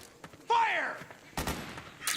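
Gunfire and combat noise in Metal Gear Solid 4: a shouted in-game voice, then sharp bursts of shots and impacts arriving in separate clusters, close and fairly loud during a brief firefight.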